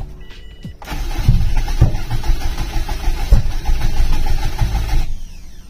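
A Subaru WRX being cranked over on its first start in eight months: the starter churns loudly and steadily for about four seconds with rough, uneven firing pulses, then cuts off without the engine catching.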